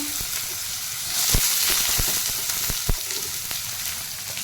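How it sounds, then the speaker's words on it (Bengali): Potatoes frying in hot oil with panch phoron, a dried red chili and bay leaf, a steady close sizzle with scattered crackles and pops, stirring scrapes now and then, no talk. "আলুটা একটু ভাজা ভাজা করে নেবো।"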